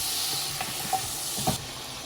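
Tomatoes cooking down in masala over high heat, a steady close sizzling hiss with a few soft pops and bubbling bursts.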